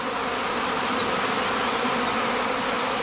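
A honeybee swarm from the casting period hums at a heather skep apiary, a dense, steady buzzing of many bees that stays close and loud for the whole stretch, with no voices.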